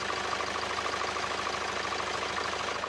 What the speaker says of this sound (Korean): 이제 이 시원시원한 차량 엔진 소리 한번 들려드리도록 하겠습니다.